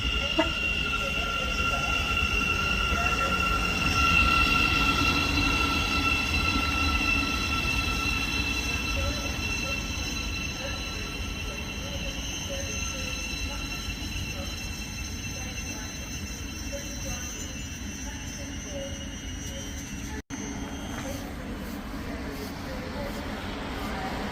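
British Rail Class 700 electric train arriving at Hitchin station on the East Coast Main Line, a loud sustained rumble with whining motors and squealing wheels that slowly fades as it slows, with a brief sharp click near the end.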